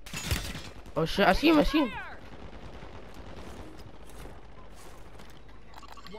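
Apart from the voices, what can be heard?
gunfire in a video game (Resurgence)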